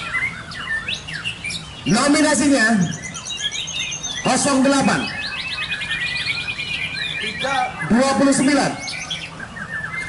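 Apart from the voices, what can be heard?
white-rumped shama (murai batu) songbirds singing in a contest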